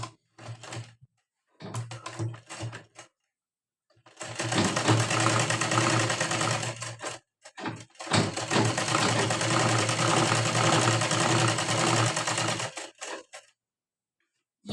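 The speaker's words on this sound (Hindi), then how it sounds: "यहाँ पे आधा इंच छोड़ के सिलाई करनी है।" A sewing machine sews a folded strip on a blouse, first in several short stop-start bursts, then two long continuous runs of fast needle chatter separated by brief pauses.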